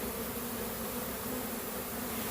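A ten-pound honey bee swarm fills a bee yard with a constant, loud, dense buzzing that holds steady throughout without pause or voices.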